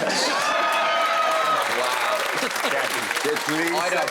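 A studio audience at a British comedy panel show claps steadily and loudly throughout, with some cheering and voices mixed into the dense applause.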